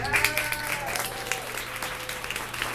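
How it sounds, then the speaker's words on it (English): Applause from a small audience at a community talk, brisk close clapping that fills the short moment and stays fairly even, with a voice faintly underneath. "Another round of applause for Evette and David"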